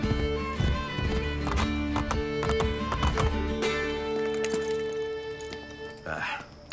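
Horse hooves clip-clop rapidly in Renaissance-era Assassin's Creed Brotherhood, with a whinny and tapping hoofbeats, then a brief neigh near the end; steady galloping rhythm throughout.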